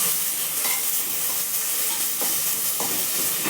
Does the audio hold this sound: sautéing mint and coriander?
yes